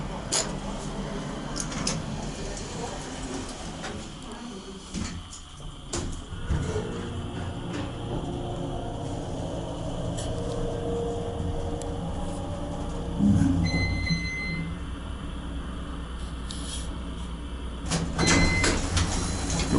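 An Otis Lexan elevator at Shops At Houston Center hums and rumbles during a ride, with its doors sliding, a few clunks, and faint chime tones.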